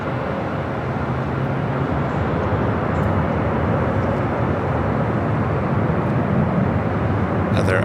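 An American Airlines Airbus A321, about ten years old, roars steadily at LAX, a continuous broad jet rumble holding level throughout, with faint background talk.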